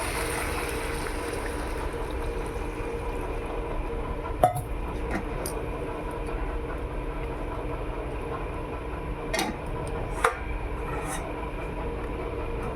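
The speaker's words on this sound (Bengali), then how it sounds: "এবার দিয়ে দিচ্ছি জল" Water poured into a pan of simmering kosha chicken with potatoes, a steady, full rushing wash lasting several seconds, with a few light clinks of utensil against the pan.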